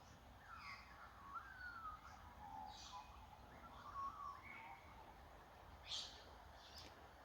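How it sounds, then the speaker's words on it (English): Several birds sing and chirp at a distance in the countryside near a village, over a soft, steady outdoor hiss, with thin whistled phrases scattered throughout. "The sound of the birds here was just so relaxing."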